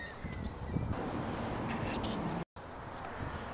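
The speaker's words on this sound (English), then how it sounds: "it's not surprising that we found a Canada goose nesting nearby" Canada goose nesting beside the parking lot of a large hockey rink, giving a few honking calls over outdoor background noise, moderately close, with a brief dropout near the end.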